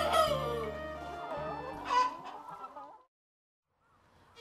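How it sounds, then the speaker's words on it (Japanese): Hens and a rooster in a breeding henhouse with nesting boxes, kept at about one rooster per ten hens. Loud, close clucking and a crow for about three seconds, then near silence. "親鳥の鶏舎ではメス10羽に対してオスが1羽くらいの割合で飼育されます。"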